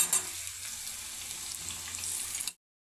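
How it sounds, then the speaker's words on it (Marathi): Sliced onion sautés in a hot pan with a steady, bright sizzle that holds evenly until it cuts off abruptly near the end. "कांदा हलकासा गुलाबी रंग येईपर्यंत परतवून घ्यायचा आहे"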